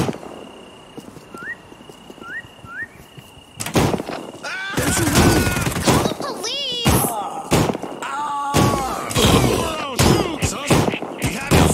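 Boomstick shotgun gunfire in the video game Postal Redux: a rapid run of loud, heavy blasts and impacts mixed with shouts and game noise, after a quieter stretch with a few short chirps.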